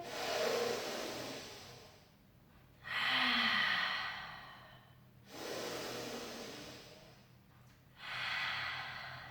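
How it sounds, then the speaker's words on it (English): Slow, deep breaths during a pilates mobility stretch, long airy inhales and exhales alternating in a calm rhythm, close and soft with no talking. "Take a breath in."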